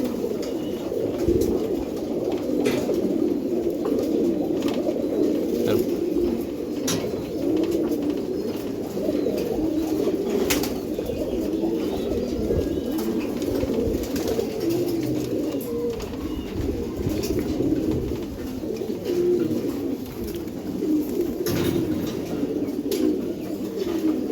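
Giribaz pigeons coo steadily in a loft, a continuous layered murmur of overlapping low calls from several birds nearby, with occasional faint clicks and rustles.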